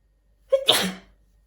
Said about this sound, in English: Excuse me, I think I have to sneeze.